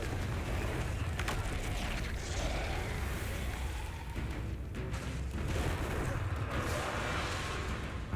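Confringo blasting spells fired in Hogwarts Legacy combat, a dense run of booming, crackling impacts over constant low rumble, loud and continuous with no pause for the full stretch.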